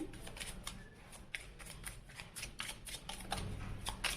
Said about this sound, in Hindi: ओके, तो चलिए कार्ड शफल करते हैं।